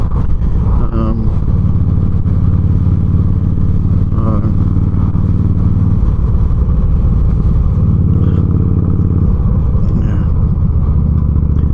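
A motorcycle rides steadily along a road, its engine a loud continuous drone close by, with slight shifts in pitch as it moves and wind rushing through.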